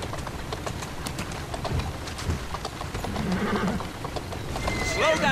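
Horse in Assassin's Creed Syndicate, with soft hoof clip-clops and a brief whinny near the end, low in the mix under ambient game sounds and talk.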